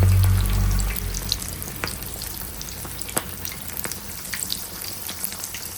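Mirchi bajji, green chilies stuffed with a potato filling, fry in oil with a steady hissing bubble and scattered sharp pops, close up after a brief low rumble at the start.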